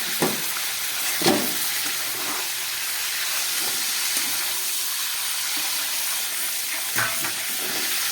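Chicken pieces seasoned with salt and garam masala frying in hot oil give a steady loud sizzle and hiss throughout. A few sharp clanks and scrapes from a utensil sound as the pieces are lifted out. No one speaks.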